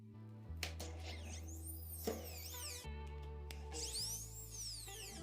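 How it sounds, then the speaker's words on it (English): A small power drill bores two holes into a small plastic bottle cap, its motor whining in several short bursts with rising and falling pitch sweeps, close and fairly quiet, with no talking. "You need to drill 2 holes in the cap."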